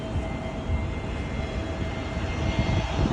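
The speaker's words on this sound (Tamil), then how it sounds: "வருது ஃப்ளைட் வருது." An airplane drones steadily overhead, a continuous broadband engine rumble at constant moderate loudness, heard on its own with no voices.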